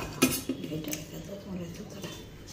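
A fork is handed over at a meal, sharp metal clinks and taps standing out near the start over soft dish and cutlery clatter, with voices talking quietly in the background.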